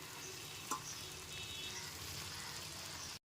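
Fried soya chunks go into a pan of cooked spice masala and fry in oil, a steady close sizzle with one sharp clink of a utensil early on before the sound cuts off abruptly.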